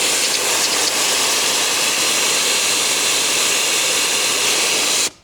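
Air blasts out of a tire at about 40 PSI through a Jaco Lightning RX4 rapid deflator with the valve core removed, a loud, steady, close broadband hiss lasting about five seconds before cutting off abruptly.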